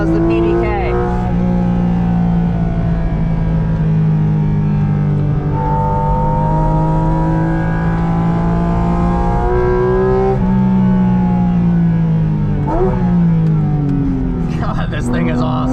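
Porsche GT4 RS engine heard from inside while driving, a loud sustained drone with rising and falling pitch through gear changes and revs throughout.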